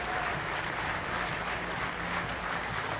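Steady, dense applause from the crowd at a Wales v France women's rugby match, a continuous wash of clapping that holds at even loudness throughout, heard from a distance.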